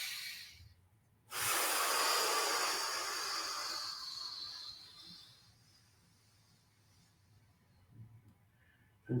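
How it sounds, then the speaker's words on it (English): Deep breath drawn in during a stretching exercise, one long loud airy inhale lasting a few seconds that fades into quiet, with a faint short breath near the end, close to the microphone. "One more time, breathing in."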